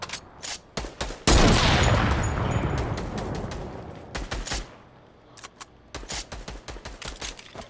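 Gunfire in the Fortnite video game as a player is sniped from behind: sharp, loud shots in quick bursts with a long rolling blast near the start, close and alone without talk.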